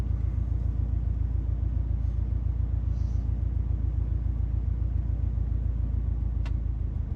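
A Subaru STI idles and pulls gently as a learner driver eases the clutch out and adds a little gas: a steady, close, low engine rumble heard from inside the car, with no clear revving.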